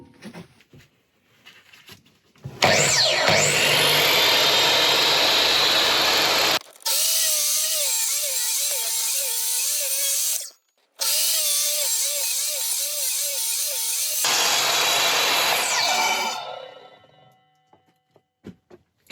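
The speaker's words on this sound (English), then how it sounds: "I'm going to get out my miter saw and cut out these two areas" A miter saw cutting through a wooden bowl blank: the motor spins up to a loud, steady whine, dips briefly twice during the cut, then winds down to a stop.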